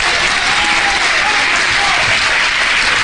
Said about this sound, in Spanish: Si quiere aplaudir a Dios, aplauda.